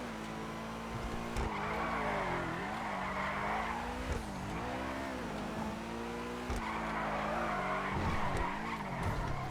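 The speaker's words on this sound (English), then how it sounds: "I just want to show you guys how this car would drift normally, which honestly isn't too bad considering it's an all-wheel drive car." An all-wheel-drive car drifts and skids in GTA V Online, its engine droning under long, wavering tire squeals that swell and fade in repeated slides, with no talking.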